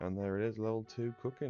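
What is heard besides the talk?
cat meowing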